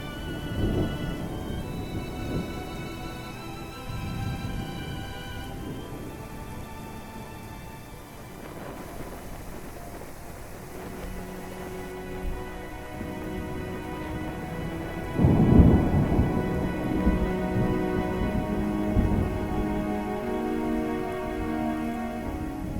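Steady rain falls while deep thunder rumbles roll repeatedly, with one louder crack midway; no voices.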